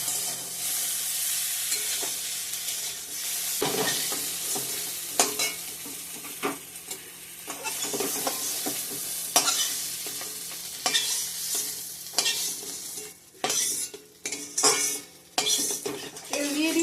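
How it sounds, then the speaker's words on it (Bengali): Bitter gourd fries in a pan as a metal spatula stirs and scrapes it, a continuous close sizzle punctuated by frequent clanks and scraping strokes that grow busier toward the end. "করলা ভাজাটা নামিয়ে নেব একটু ভিজে ভিজা ভাজা করলাম"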